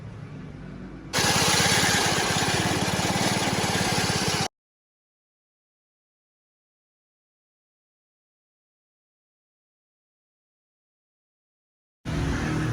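Grinding mill running on a chili pepper mixture for table pepper, a loud steady motor roar with grinding that cuts off abruptly, followed by a long silence before it resumes.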